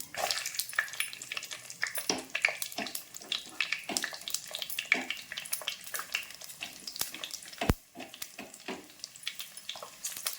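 Garlic cloves frying in oil in a home kitchen pan, a steady crackling sizzle with bursts of popping and stirring scrapes, close and fairly loud, with no talking.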